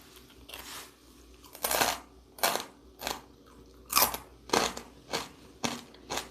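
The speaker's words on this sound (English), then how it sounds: "You hear that crunch?" Crunchy, slightly salty food chewed close to the mic, a run of about nine loud crunching bites in an uneven rhythm with quiet gaps between, no talk.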